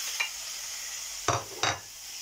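Minced meat goes into a hot pan of softened onion and chili and sizzles steadily and close, with two sharp clattering bursts of stirring near the end. No one speaks.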